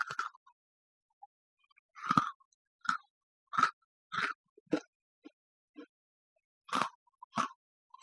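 Close, crisp crunches of a cookie partly dipped in milk, bitten and chewed in separate short bursts with quiet gaps between, some bites sharp and others softer.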